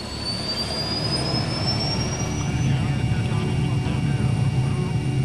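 A steady, loud aircraft engine roar with a rising high whine as an emergency medical helicopter powers up and lifts off nearby from a hospital.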